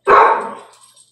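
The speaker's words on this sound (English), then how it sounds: "I don't know what she's barking at." A single sharp dog bark, close and loud, fading quickly.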